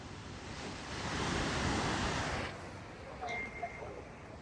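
Loud, broad rushing water of a waterfall in Kashmir roars for a few seconds, then drops away to a softer wash with a few faint higher sounds.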